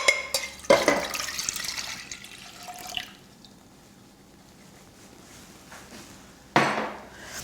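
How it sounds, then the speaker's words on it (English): Milk is poured into a cooking pot in a kitchen, a close liquid splash lasting a couple of seconds, followed by quiet and then a brief clatter of cookware. "So in a nice sized pot, we're going to add our ½ litre of milk."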